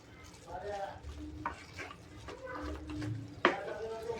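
Carrot halwa with dry fruits, cooked in jaggery and ghee, being stirred and sautéed in a pan, with a soft steady sizzle, scraping strokes and a sharp spoon knock near the end, under quiet background voices.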